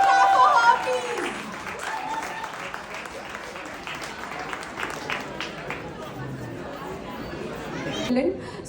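An audience at a Diwali celebration on Sage Beach in Berlin claps for a singer. Sustained applause runs under crowd chatter and talking, then fades toward the end.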